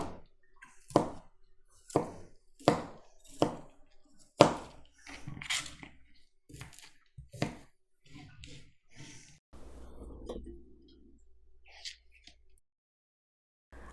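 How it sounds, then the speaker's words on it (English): A knife chops through cauliflower florets on a board, about ten crisp, evenly spaced thuds close up, then softer scattered cuts and a brief rustle as the pieces are gathered. "So we're just going to chop them up."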